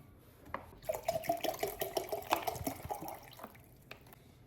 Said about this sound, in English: My water bottle. We're gonna put the rest of the water in there.